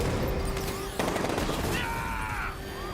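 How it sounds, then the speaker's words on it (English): Gunfire from enemies in Batman Arkham Knight, a dense crackling barrage buried under a loud, busy mix of explosions, engine roar and whooshing effects, with a voice calling out amid the chaos. "They're still on me. Open fire!"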